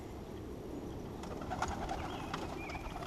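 Young birds a few days out call in soft cooing notes and a few brief chirps over a constant low background hum, the calls fairly faint and scattered through the short stretch.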